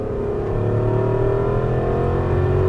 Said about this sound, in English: And throttle over the hill.